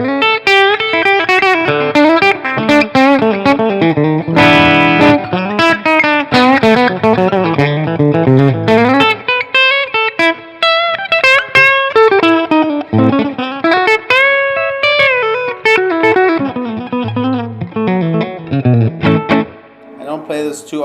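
A 1954 Fender Telecaster electric guitar plays a run of melodic lines and chords through effects with a distorted tone, loud and close, notes ringing out and changing steadily across the passage.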